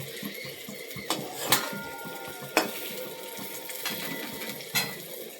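A spatula stirs fried flat beans (sheem) in a pan, giving several sharp scraping clicks at irregular intervals over a steady background hiss, fairly close and moderately loud.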